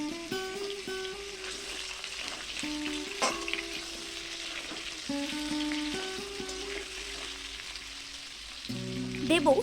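Sliced potatoes, cut lengthwise, sizzle steadily in a pan for a Bengali katla fish curry, with stirring clatter and a few louder bursts near the end; background harmonic tones run throughout.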